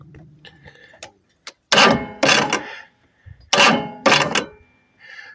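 A car starter with a faulty solenoid and a poor ground tries to crank. It gives a few light clicks, then several loud, harsh bursts of about half a second each, separated by short pauses, close up.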